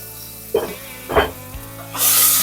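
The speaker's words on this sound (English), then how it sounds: "Now that the oil is properly warm, we are going to add squid" Squid and prawn go into properly heated oil for a seafood stew, giving two sharp sizzling bursts a beat apart, then a loud, sustained hiss of frying close by.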